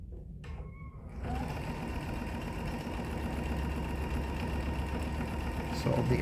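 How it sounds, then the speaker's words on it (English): A sewing machine stitches pieces of a hexagon quilted table topper, starting after a brief quiet moment and then running as a steady close mechanical whir, with a voice talking over it. "So I'm going to sew across there."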